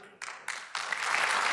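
Applause from a crowd for a government minister at a Brazilian government event starts in a few quick bursts, then swells into steady, sustained clapping that grows louder toward the end.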